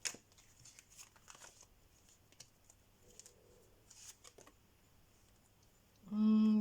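Soft scattered clicks and slides of tarot cards being handled and placed on a surface, quiet and close, ending in a sudden loud steady tone.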